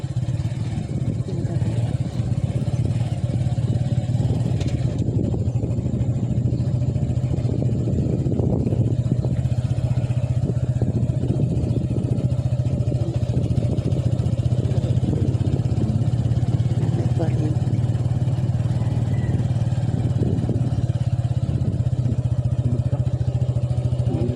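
A motorcycle engine drones steadily and loudly throughout, with a constant low rumble and occasional surges, no clear pauses.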